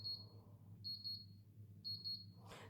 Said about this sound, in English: that's the built-in countdown timer that's just gone off